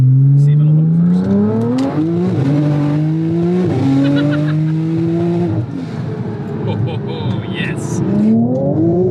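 A 1300 horsepower all-wheel-drive Porsche launches hard on a backroad on 20-inch wheels, its engine rising loudly through several sharp revving pulls with tire chirp, close and dominant while people talk and exclaim over it.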